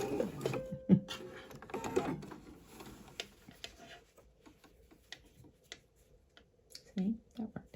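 Domestic sewing machine stitching elastic onto a bralette, quick rhythmic clatter in short bursts with pauses, close and fairly quiet, a voice talking over it at times.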